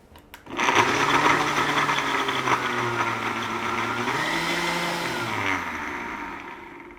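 A blender purees vinegar and shallot for a salad dressing, a loud steady whirring motor that starts abruptly, shifts pitch partway through and runs continuously for several seconds with no talking.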